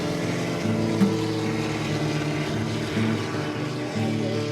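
Loud, steady racing car engine drone with a low harmonic hum, swelling slightly a few times as if revving, with no voices, at a Duesenberg exhibition of speed.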